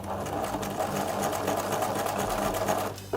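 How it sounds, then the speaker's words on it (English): A sewing machine stitches through several layers of knit fabric for a shift dress, giving a steady, close mechanical whir that runs unbroken and stops abruptly at the end. "When you've got more layers, the machine finds it easier to sew."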